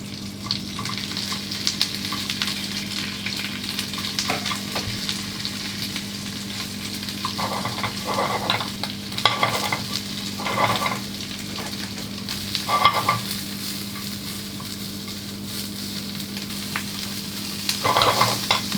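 Oyster mushrooms and giant shrimp stir-fried in a pan: a steady sizzle broken by repeated scraping and stirring strokes, with a brief trickle of water and a constant low hum underneath.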